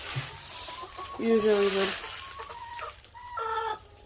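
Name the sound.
chickens clucking in a chicken run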